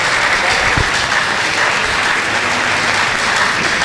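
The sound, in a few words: applause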